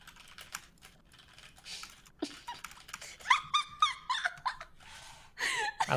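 Computer keyboard keys clatter in quick, uneven bursts of sharp clicks, fairly close, during a drawing game party, with squeaky high chirps and a few soft breaths mixed in.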